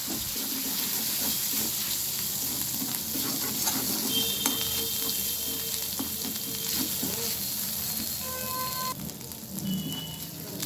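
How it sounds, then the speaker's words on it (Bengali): Ground turmeric and spices fry in a pan for a moong dal and ash gourd dish, a loud, dense, continuous close sizzle with faint clinks, dropping slightly near the end. "দিয়ে দিলাম হলুদ গুঁড়ো আমি এবারে ভালোভাবে ভেজে নেব"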